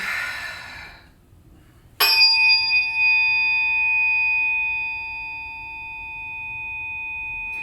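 Struck tuning forks in a biofield tuning session give a sharp strike followed by pure, sustained ringing tones that fade slowly, loud and close, after a soft exhale.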